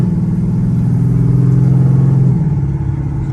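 A loud cammed car nicknamed the Reindeer revs hard on a night drive, its deep, steady engine roar close and continuous throughout, easing slightly near the end, with no voices.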